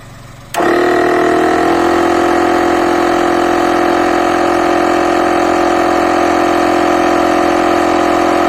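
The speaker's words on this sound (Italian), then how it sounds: "Adesso accendo il compressore." An Amazon Basics portable digital air compressor switches on with a sudden onset, then runs as a loud, steady motorized drone with a buzzing hum, close by and alone without talk.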